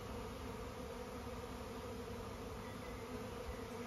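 Bees flying around a hive make a steady, dense buzzing swarm drone, soft and continuous with no pauses or voices.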